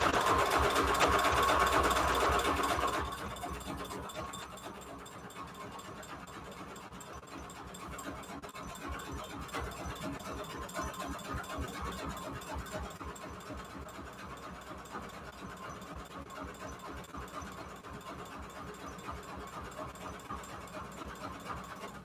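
A sewing machine stitching paper for junk journals, running steadily with a fast, even mechanical chatter that starts louder and settles into a quieter continuous whir.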